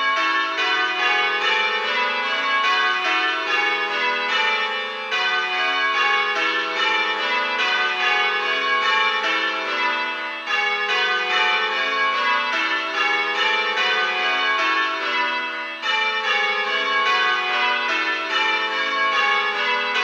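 Church bells ring changes in Little Bob Minor plain hunt, a continuous, evenly paced stream of overlapping clear strikes with a brief gap at each row's end, loud and close, with no talking.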